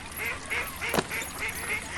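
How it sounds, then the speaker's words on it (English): Ducks being fed breadcrumbs quack repeatedly in a steady, moderately close rhythm, with one sharper honk-like call in the middle against a soft outdoor hiss. "I might as well feed the ducks"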